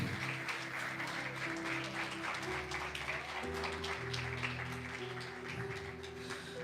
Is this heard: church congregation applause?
yes